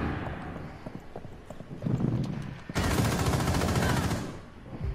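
Gunshots in Rainbow Six Siege, with scattered shots early on, then a long dense roar of loud gunfire and noise filling the last couple of seconds.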